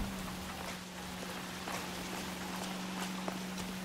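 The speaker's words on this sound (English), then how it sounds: "Oh, it's raining." Steady, moderate rain hiss in LA Noire, continuous and even throughout with a few faint footstep-like taps and a low background hum; no talking.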